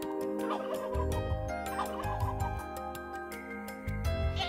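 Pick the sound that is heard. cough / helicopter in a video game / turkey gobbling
turkey gobbling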